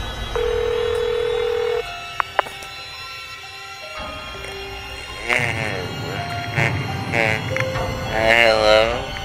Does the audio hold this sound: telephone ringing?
yes